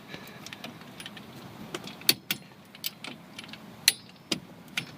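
A torque wrench tightens brake caliper bolts to 25 pounds on a 2005-2010 Chevy Cobalt, giving a series of close metallic clicks and clanks spread at irregular intervals, with two sharper snaps standing out.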